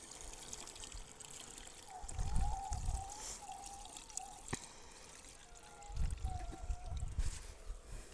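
Water poured from a container into a herbicide sprayer tank, a soft trickling flow with a few heavier gurgling bursts, fairly quiet and with no clear talk.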